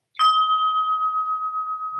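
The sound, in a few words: percussion bell struck and ringing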